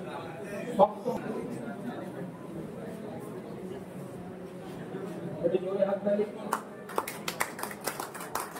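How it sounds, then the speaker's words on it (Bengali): Scattered hand claps from a crowd at a pigeon club's tournament prize distribution, a brief burst early then a fuller run of applause near the end, under steady talk over a loudspeaker. "একটু জোরে হাত তালি দিন"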